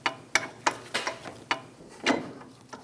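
A ratchet snugs down the caliper bracket bolts on a Chevrolet Silverado 2500 HD, giving a quiet, uneven series of about eight sharp clicks close up.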